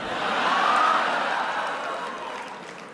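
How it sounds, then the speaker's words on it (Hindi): Large audience at PM Modi's speech in Berlin, Germany, erupts in a dense wash of applause and cheering that swells early and slowly tapers, loud and continuous with no speech. "तालियां तो अब बजने वाली है।"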